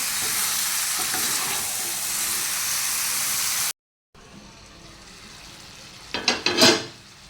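Food being sautéed and stirred in a pan, with a steady frying sizzle and a brief cut to silence. A quieter hiss follows, then a few clinking scrapes of a spoon against the pan near the end.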